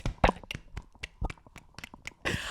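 Hands clap in a scattered, uneven series of sharp, close claps and taps, followed by a brief burst of noise near the end.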